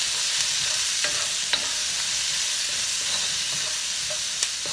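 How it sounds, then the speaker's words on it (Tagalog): Chopped onion sautés in hot oil right after garlic for a Filipino ginisang upo, giving a steady close sizzle broken by a few soft spatula scrapes and clicks, with no talking. "ilalagay na po natin yung susunod, which is yung sibuyas. Okay. And then, haluin lang po agad yan."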